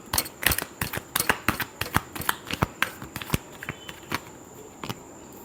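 Tarot cards shuffled by hand in a fast, steady run of crisp riffling flicks and soft slaps, close and clear, with no voice over them.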